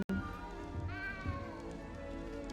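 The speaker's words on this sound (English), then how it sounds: "good luck finding that cat" Cat in the video game Hogwarts Legacy, a single drawn-out meow rising and falling in pitch near the middle, moderately quiet over a faint game background.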